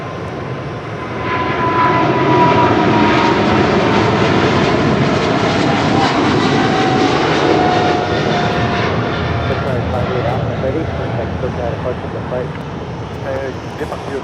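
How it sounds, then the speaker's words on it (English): A Qatar Cargo Boeing 777 freighter departing toward Liège roars steadily at close range for most of the stretch, a loud sustained jet rumble building after the first second and easing slightly near the end, with people talking over it. "This is Qatar Cargo Flight 58 Alpha departing to Liège on a 777 freighter."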